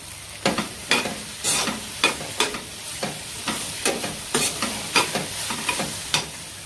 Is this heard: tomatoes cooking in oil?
yes